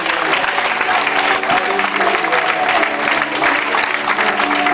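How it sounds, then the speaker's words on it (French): A congregation at a deliverance service in Réunion applauds and cheers for the Lord, a dense, steady wash of clapping and crowd noise that stays loud and close for the whole stretch with no pauses. "Acclamons le Seigneur très fort"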